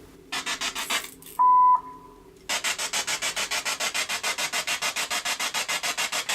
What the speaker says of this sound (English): You may hear some white noise